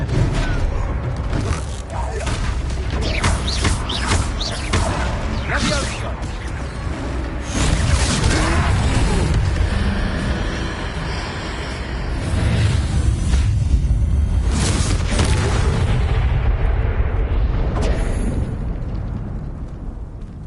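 An explosive spell goes off during a troll fight in Hogwarts Legacy. Repeated heavy booms and blasts mix with clattering combat over a long stretch, loud and close, with voices talking at times.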